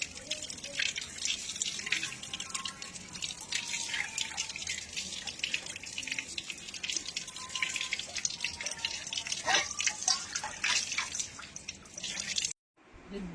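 Fish being washed by hand in water with salt, with steady splashing and dripping close by, plus light clinking, ending in a sudden brief silence.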